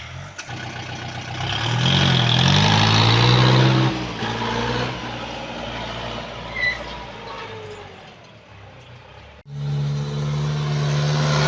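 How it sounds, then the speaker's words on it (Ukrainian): A small tractor engine pulling a plow through long-unworked garden ground rumbles and labors nearby, its pitch rising and falling with load, then steadies to a firm idle near the end. "Так от тракторець працює."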